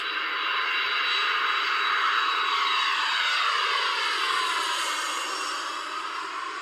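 Aircraft at the 1996 Abbotsford International Airshow make a loud, sustained engine roar with a slowly sweeping pitch as they pass overhead, and no voices.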